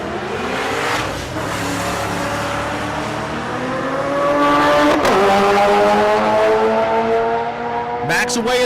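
A Ford Mustang drag car at Rocky Mountain Race Week launching hard, its engine roaring loud and rising through the revs in a sustained blare, growing louder midway with rising harmonic sweeps.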